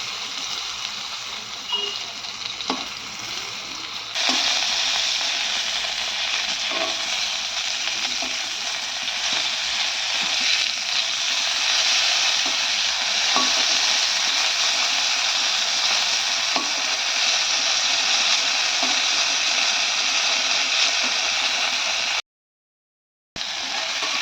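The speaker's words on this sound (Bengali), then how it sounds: "এখানে বেগুন ভাজা হয়ে গেছে" Eggplant and bitter gourd slices fry in oil, making a continuous close hiss and bubbling sizzle with light clicks that thicken after the first few seconds, broken by a brief drop to silence near the end.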